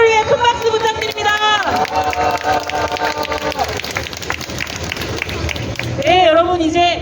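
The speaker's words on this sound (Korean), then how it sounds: "모두 서로를 위해 큰 박수 부탁드립니다." Crowd at a Wednesday street rally applauding together, a broad rush of clapping and cheering that swells in the middle, while amplified voices carry over it at the start and end.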